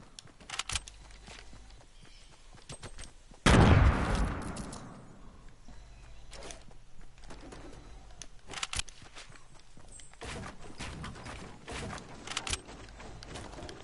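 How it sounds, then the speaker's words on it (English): A single loud, sharp hunting rifle shot in Fortnite with a quick decaying tail, standing out against quiet game ambience, faint footsteps and scattered soft clicks. "I'm doing double hunting rifle."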